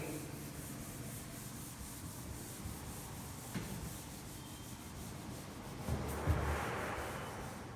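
Rubbing out writing on a classroom board, a soft continuous scrubbing and brushing that runs steadily at low level and grows a little louder near the end, with no voice heard.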